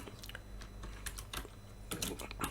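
Code is typed on a computer keyboard in quick, irregular bursts of close, crisp key clicks separated by short pauses, faint and isolated with no voices.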